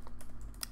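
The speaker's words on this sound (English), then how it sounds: "so I can start typing" Quick, light keystrokes on a computer keyboard in a quiet room, a steady run of soft close taps with no talking.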